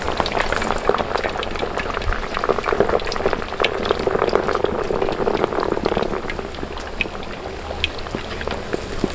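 Pork belly chicharon bagnet frying in very hot oil outdoors, a dense, loud, continuous crackling bubble with sharp pops scattered throughout, close up and without talking.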